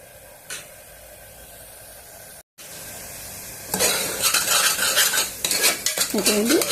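Chicken curry is stirred in a pan with a metal spoon, which clatters and scrapes against the pan over a sizzle that rises sharply after a quiet start, loud and close.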